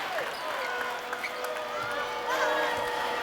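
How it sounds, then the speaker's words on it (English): A basketball arena crowd at a women's NCAA Sweet 16 game, UConn versus Oklahoma, hums with steady murmuring and scattered shouts, swelling slightly near the end, under a commentator's voice. "You can hear the crowd anticipating it."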